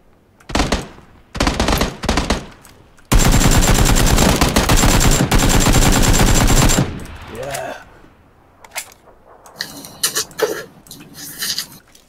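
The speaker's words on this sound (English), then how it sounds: "Someone else was shooting at me." PUBG gunfire: short sharp bursts, then a long sustained volley of rapid shots, followed by scattered quieter pops and a speaking voice.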